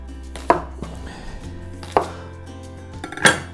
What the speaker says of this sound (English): So I'm going to chop these down to smaller sizes